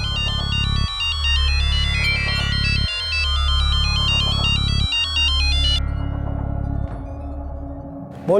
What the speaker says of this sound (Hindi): तेरा फोन ट्राई कर रहे हैं, मैं और जगन दोनों, फोन भी नहीं उठा रहा।